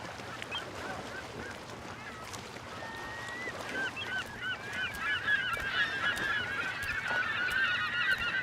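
Seagulls call repeatedly over a steady beach ambience, the cries growing louder and denser toward the end and layered over a continuous low background wash.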